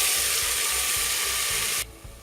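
Village-style Tamil tomato kulambu cooking: chopped tomatoes dropped into sautéed small shallots in a pan, giving a steady, loud sizzling hiss with a faint rhythmic knocking underneath that cuts off abruptly near the end.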